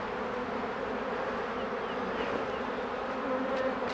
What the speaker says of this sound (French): Je secoue toutes les abeilles.